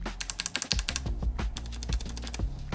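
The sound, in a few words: typing on a mechanical keyboard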